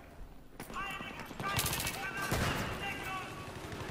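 Gunfire in the Battlefield 3 video game, with an AK-47-style rifle in play on a sniper map: bursts of rapid shots and impacts over a steady game background, fairly close and continuous.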